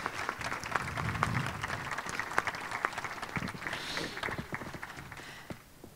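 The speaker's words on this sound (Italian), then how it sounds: "Gli farei un grande applauso per dirgli grazie" Sustained applause from an audience at a photography talk, a dense wash of many hands clapping with a few sharper individual claps, fairly loud and steady, tapering slightly at the end.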